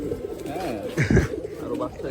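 Silver pigeons on a loft farm coo in a low, rolling murmur throughout, with someone talking over them and a louder burst of cooing in the middle.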